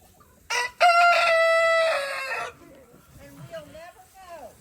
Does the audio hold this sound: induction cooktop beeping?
no